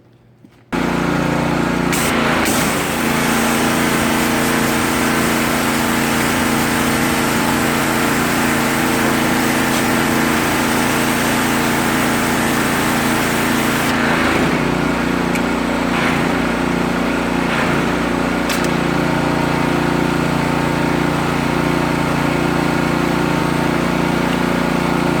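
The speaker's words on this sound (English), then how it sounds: "I'm gonna use the spray nozzle with my power washer" A power washer with a spray nozzle runs steadily while rinsing the engine bay of a Porsche Cayman, a loud continuous hiss and motor drone that shifts slightly partway through.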